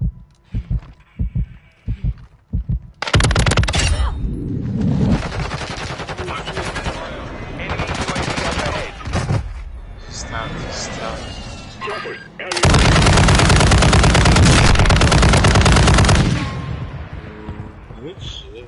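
A light machine gun fires in a first-person shooter match in long, dense automatic bursts, with the heaviest burst near the end, while players talk and other scattered shots sound around it.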